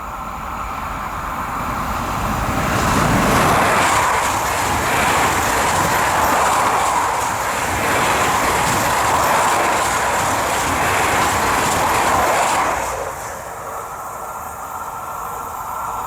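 An AGC train passes a level crossing at Lagny with a loud, sustained rumble and rushing roar that holds steady for about twelve seconds, then drops away to a quieter background.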